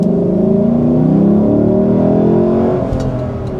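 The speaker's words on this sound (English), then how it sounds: "what you can also hear shifting through the gears there is the 10-speed automatic that you get on the LC500" Lexus LC 500 V8 revs hard through its 10-speed automatic, the loud engine note climbing and stepping through gear changes before easing off near the end, close and without voices.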